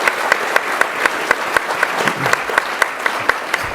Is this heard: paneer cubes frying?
no